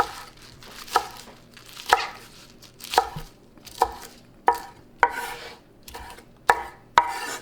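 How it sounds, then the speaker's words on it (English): A knife chops de-stemmed kale on a board for a ribollita bread soup, with about nine distinct close thuds at a slow, fairly even pace, spaced about a second apart, and no talk. "now we got the kale, I take the stem out already, and we chop, not really small"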